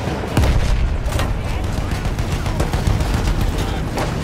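Field gun firing in the video game Battlefield 1, heavy booms and bursts of gunfire layered over a dense, continuous battle din, with one sharp blast standing out early and others rolling through.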